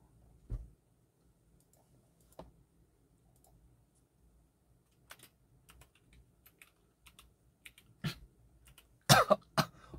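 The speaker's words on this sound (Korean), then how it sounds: "아 요즘 기침이 너무 많이 나." A few sharp coughs, one early and a louder cluster near the end, separated by quiet stretches with light tapping and small clicks.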